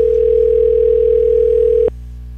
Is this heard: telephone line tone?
yes